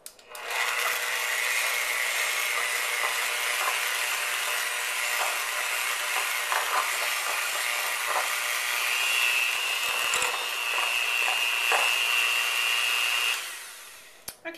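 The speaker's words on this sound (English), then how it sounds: "I'm going to add my sugar and my vanilla and we're just going to beat with my mixer here." A handheld electric mixer beats cream cheese, sugar and vanilla into a tart filling with a steady, loud motor whir that holds almost unbroken for about thirteen seconds before cutting off.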